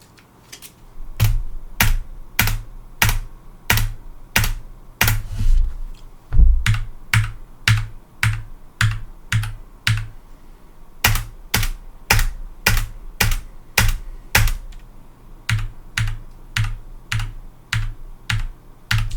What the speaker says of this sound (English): every key on your keyboard makes a unique sound